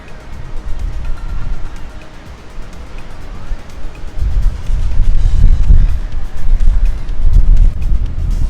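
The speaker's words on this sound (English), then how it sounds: "there's a bit of a wind" Wind buffets a microphone at the beach, a rough, low rumbling roar that grows louder and gustier in the second half, loud and continuous with no talk.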